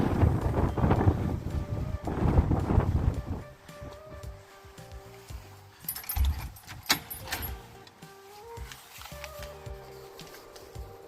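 Gusty coastal wind roars across the microphone outside a villa in Didim, Turkey, then quieter rustling and jingling sounds follow, with wind still buffeting in the background.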